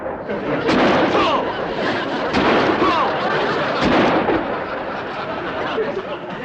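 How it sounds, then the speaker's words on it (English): Shotgun shots at thrown clay targets in a sitcom scene: several sharp blasts spaced a second or more apart, loud and close over a busy, noisy background with voices. "I think you better use the shotgun"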